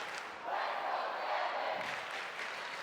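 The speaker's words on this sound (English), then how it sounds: "that got the crowd probably the loudest we've heard them since the beginning of the game" A high school basketball crowd roars and cheers in a gym during a Dunmore vs Riverside game, a swelling wall of voices that peaks and holds before easing slightly, heard from a distance.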